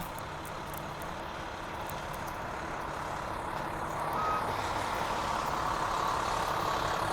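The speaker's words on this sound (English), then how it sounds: "there's a fire truck" A fire truck passing on a city street, heard as a steady rumbling traffic wash with a brief tonal beep or siren-like tone, growing slightly louder toward the end, with no talking.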